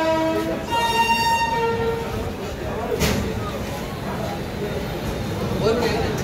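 Passenger train on the North Bengal route moving along the track on a rainy day, a continuous close rumble with a horn-like tone near the start, people talking over the steady noise.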